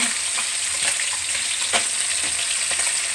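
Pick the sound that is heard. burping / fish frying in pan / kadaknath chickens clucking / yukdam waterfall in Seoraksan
fish frying in pan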